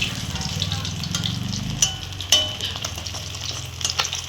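Small fish frying in a pan in a home kitchen, a continuous oil sizzle with a few sharp clinks and scrapes as the fish is turned and lifted out.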